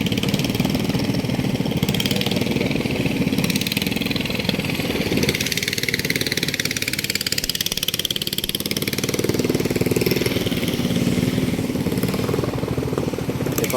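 A boat engine drones steadily and loudly, without a break, as the boat threads between large rocks on the route to Remakri.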